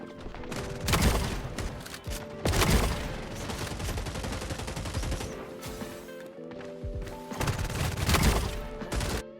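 Rapid gunfire from the video game Fragpunk, loud bursts of repeated shots with a brief lull in the middle before another heavy volley near the end, no talking.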